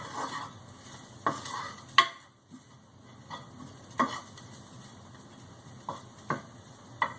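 Sliced beef for a Philly cheesesteak cooks quietly in a pan, a faint low sizzle broken by sharp, irregular clicks and scrapes of a utensil against the pan, close and without talking.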